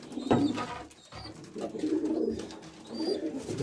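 An Arab tumbler pigeon squab, the first chick raised in the nest box, peeps with thin, high calls over steady nearby cooing from the loft.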